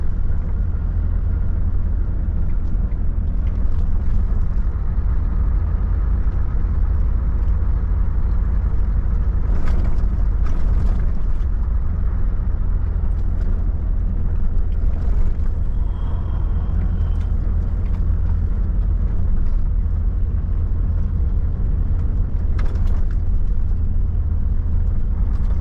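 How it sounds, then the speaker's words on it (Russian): Many cars cross the frozen river ice toward Yakutsk, heard from inside a Volvo FH 540 truck as a steady, heavy low engine and road rumble that runs unbroken, with faint occasional rattles and no talk. "И сзади табун машин несется"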